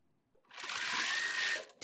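A sewing machine stitching a quilt facing gives a short, fairly quiet whirring run of just over a second, with a soft click before and after.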